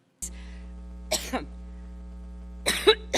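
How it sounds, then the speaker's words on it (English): A child with whooping cough (pertussis) has a coughing spell: separate harsh coughs with no breath drawn in between, heard close over a steady background hum. "one clue I hear is that the child's coughing, doesn't breathe in, and then coughs a couple more times, and that's kind of a clue to whooping cough or pertussis"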